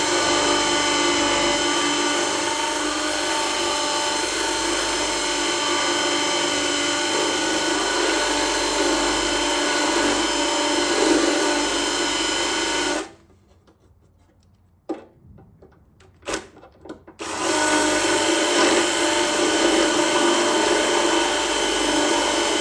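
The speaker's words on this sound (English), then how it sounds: "Once that rivet is almost completely drilled out," A power drill boring out rivets on a 1931 Ford Model A oil pan whines loudly and steadily for about thirteen seconds, then stops. After a short quiet stretch with a few knocks, the drill picks up again and runs at the same pitch.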